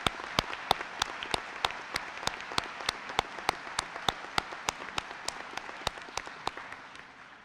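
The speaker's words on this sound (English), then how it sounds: "So let's give them a round of applause." A steady run of separate, sharp claps at an Enfield, Connecticut wartime service medal ceremony for veterans, about three per second, fairly distinct and moderately loud, like a small gathering clapping, fading out at the end.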